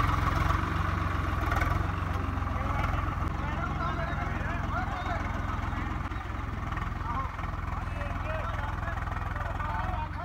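A model 855 tractor pulling a harrow in a village field runs with a steady low engine drone throughout, loud and close, while people talk over it.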